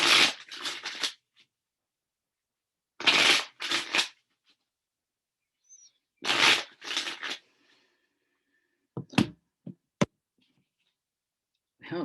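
Tarot cards are shuffled in short crisp riffling bursts, three separate rounds with quiet pauses between, followed by a few isolated taps and clicks, close and fairly soft.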